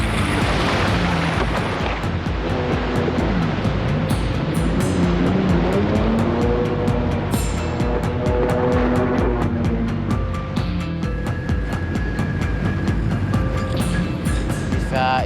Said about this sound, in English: Lifeguards launch the second jet ski.